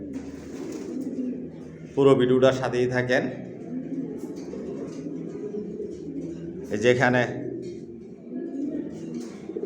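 Racing pigeons in a stock loft coo in two short loud bursts amid low background cooing, while someone talks throughout.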